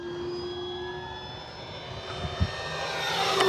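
An E-flite T-28 Trojan V2 1.2m RC plane takes off at full power with take-off flaps, its electric motor whine rising steadily over a quiet outdoor background.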